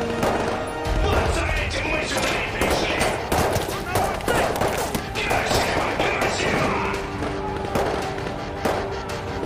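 Gunfire in the Escape from Tarkov arena shooter, heard as sustained loud volleys of crackling, overlapping shots across the whole span, with voices talking over parts of it.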